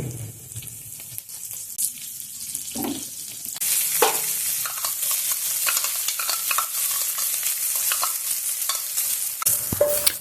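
Cumin seeds and curry leaves sizzle in hot oil, a steady bright crackling hiss that jumps louder partway through as more goes into the pan and then holds, close and without talk.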